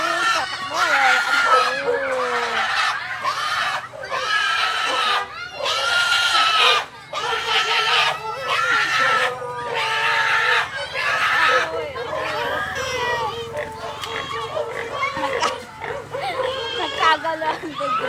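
Lively crowd of children shrieking and yelling nonstop around a loose pig in a neighborhood, the animal's squeals lost among the excited voices, all close and loud throughout.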